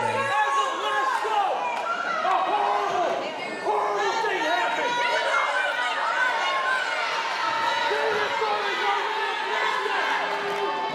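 A wrestling crowd at a Bulldog Bash show chants and jeers at Drake Zavior during a NHW Pride Championship match, a dense, steady roar of many voices with shouts and whoops that fills the hall throughout.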